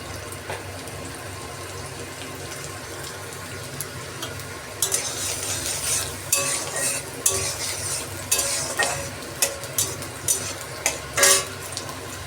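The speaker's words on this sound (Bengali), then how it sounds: "তেলটা গরম হয়ে গেছে তেলের মধ্যে আমি প্রথমে রসুন কুচি দিয়ে দিচ্ছি" Chopped garlic frying in hot oil in a pan: a steady close sizzle, joined midway by sharp scraping stirs and clatters of a utensil against the pan.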